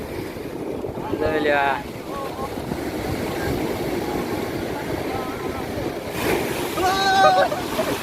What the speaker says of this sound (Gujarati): દરિયાની મોજ આરે આવે